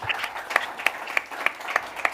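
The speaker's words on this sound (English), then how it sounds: "A round of applause." A small group claps in a brief, even rhythm at the end of a panel discussion, about seven distinct claps ringing out in a room.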